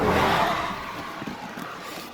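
A car passes by on a road, a broad whoosh loudest at the start and easing off over about two seconds, heard alone with no talk.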